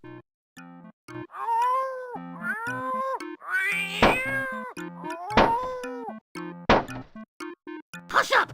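A cartoon cat in the King's Quest VII adventure game meows repeatedly in drawn-out, wavering cries over a steady musical backing, with a couple of sharp thumps near the end.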